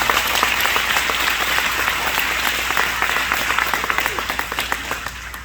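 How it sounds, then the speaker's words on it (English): A large audience gives a round of applause at a NAMI event, loud and dense at first, then thinning into separate claps as it dies down toward the end. "Give yourselves a round of applause."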